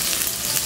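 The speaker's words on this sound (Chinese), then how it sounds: "油下来， 蒜头辣椒下来，" Garlic and chili hit hot oil in a wok and sizzle loudly and steadily, a dense close hiss with no voices.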